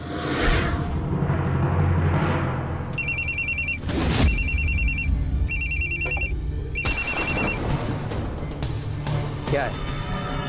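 An old-style telephone bell rings in repeated double bursts in an indoor drama scene, loud and close, with talk and background sounds around the rings.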